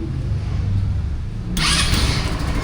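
A motor engine cranks over with a low rumble, then catches and settles into a steady running idle with a brighter hiss.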